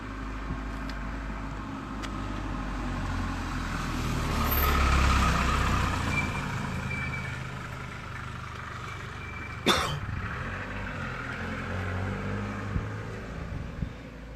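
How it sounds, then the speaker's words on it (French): Cars and trucks pass through a parking lot at night, a broad traffic wash swelling as one vehicle goes by, with a sharp clack and scattered small knocks later. "je suis sur un parking, donc il y a des voitures qui passent, des camions qui passent"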